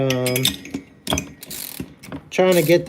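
A ratchet wrench works on the bolts of a motorized bike, giving close, loud bursts of rapid mechanical clicking that stop and start in several short runs.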